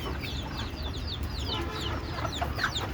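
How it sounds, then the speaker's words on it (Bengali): Free-range chickens cluck nearby in an open yard, a busy overlapping chorus of short clucks over steady background noise. "মুরগি"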